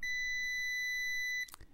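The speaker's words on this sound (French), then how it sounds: "ça bip et la lampe s'allume." A Tesmen TMM-569A smart multimeter gives its continuity test beep, a single steady high-pitched electronic tone lasting about a second and a half before it cuts off with a brief click, in a quiet room.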